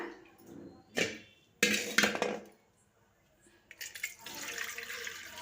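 Water sloshes and splashes out of a vessel as rice is washed, in a few short separate pours with quiet gaps, the last pour running longer.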